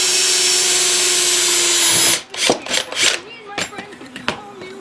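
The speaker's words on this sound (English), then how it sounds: "I got to drill some holes in this so I can bolt this into the stud" A power drill boring holes through a metal grounding bar: a loud, steady high-pitched whine for about two seconds, then stops and a few short clattering handling sounds follow nearby.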